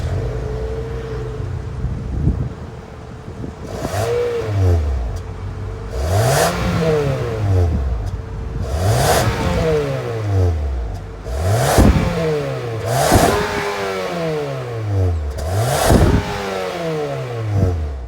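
A 2023 Nissan Altima's 2.5-liter inline four-cylinder engine starts and idles, then is revved repeatedly, each close, loud rise and fall of engine pitch spaced a few seconds apart, with no talk.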